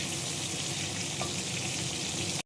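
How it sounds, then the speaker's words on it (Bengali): Fish frying in a pan after being flipped to cook the other side, a steady close sizzle and crackle of hot oil that runs evenly until it cuts off abruptly at the end. "আর একটা সাইডও ভেজে নিচ্ছি।"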